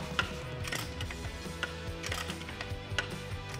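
A vehicle positioning jack's foot pedal is pumped repeatedly, its ratchet mechanism giving rapid, rhythmic metallic clicks and clunks, steady and close throughout with no talking.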